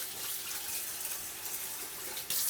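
A kitchen faucet runs steadily while neck bones are rinsed in the sink, a soft, continuous hiss of flowing water that grows a little louder at the end.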